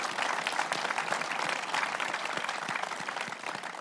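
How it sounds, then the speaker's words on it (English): An audience applauds after a panel discussion on UK shipbuilding, with dense, even clapping that holds steady and thins slightly toward the end. "A very big round of applause, I think, for our panellists here."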